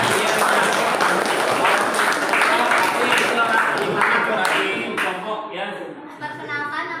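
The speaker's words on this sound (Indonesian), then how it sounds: "Tepuk tangan." A group of students in a classroom claps and cheers in sustained, dense applause that thins out after about five seconds as voices talk and laugh over the last scattered claps.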